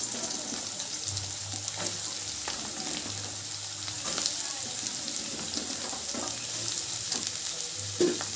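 Onion fries in oil with curry leaves and green chilli for a Tamil egg kulambu, a steady close sizzle broken by scraping and knocking as it is stirred, with a low hum beneath.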